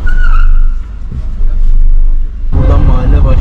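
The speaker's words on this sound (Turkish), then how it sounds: "motor geliyor." A motorbike approaches on a street in an İzmir neighbourhood, its engine surging loudly and close toward the end amid general traffic noise, with people talking over it.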